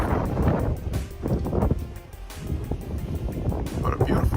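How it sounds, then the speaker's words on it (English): Strong outdoor wind buffets the microphone in loud, gusty rushes that rise and fall throughout, with someone speaking intermittently over the roar. "Now, it is super windy."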